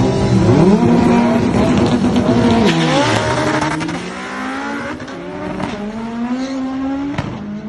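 Drag race cars, including an all-wheel-drive Honda Del Sol, accelerate hard down the strip, with loud engine roars climbing in pitch through gear changes and a second car's revs layered in, close and continuous.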